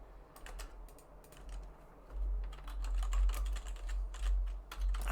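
Quiet, steady clatter of a computer keyboard as someone types code, bursts of keystrokes growing busier and louder after the first couple of seconds, close and alone without talk.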